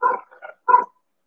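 A dog barks close by in a short series of three sharp yaps, the middle one softer, then silence.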